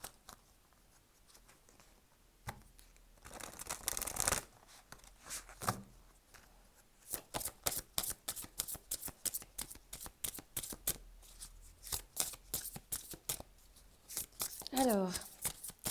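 Oracle cards shuffled by hand in a series of quick papery riffles and flutters, close and fairly quiet, with short pauses between bursts.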